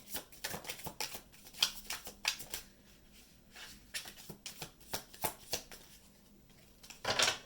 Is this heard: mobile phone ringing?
no